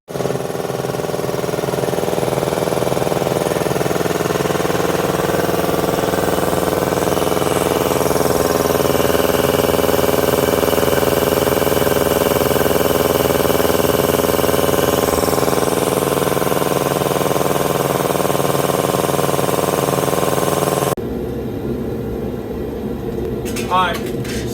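A Porter Cable air compressor with a newly replaced pump runs loud and steady for about twenty seconds, a continuous mechanical drone that then cuts off abruptly.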